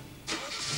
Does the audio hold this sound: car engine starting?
yes